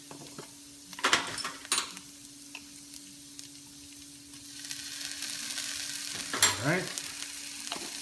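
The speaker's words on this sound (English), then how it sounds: "Let's saute the ginger." Ginger and garlic sizzle steadily in a hot pan, a soft broadband frying hiss with a couple of sharper clinks of utensil against pan; a voice speaks briefly over it.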